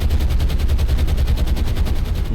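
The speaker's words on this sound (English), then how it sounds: "The intensity of the anti-aircraft fire is so intense." Dense, continuous anti-aircraft fire from a warship battle in the War on the Sea naval game, loud and relentless with rapid evenly spaced pops over a roaring low rumble.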